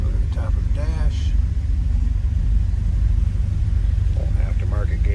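Steady low rumble of a 1982 Dodge D150 pickup engine idling after a cold start, continuous and fairly loud throughout, with brief voices over it.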